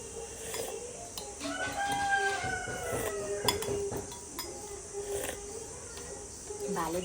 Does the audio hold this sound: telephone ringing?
no